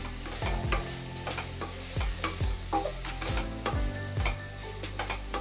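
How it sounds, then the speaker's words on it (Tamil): Onions sautéing in a pan for tomato kurma, a steady sizzle broken by repeated scraping stir strokes that come about every second, close and fairly loud with no talking. "வெங்காயம் நல்லா வதங்கிறது"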